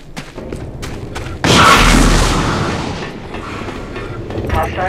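A heavy null cannon blast in the video game Dust 514 booms close and loud, its rumble fading slowly, preceded by sharp clicks and shots.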